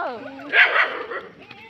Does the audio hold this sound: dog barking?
yes